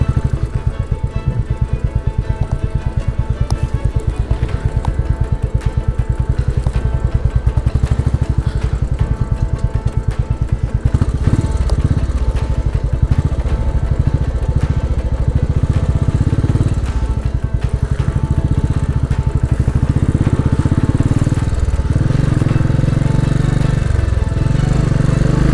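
A Royal Enfield motorcycle riding near a village outside Paris, its thumping engine loud and close with a steady pulsing beat, rising and shifting in pitch as it moves along.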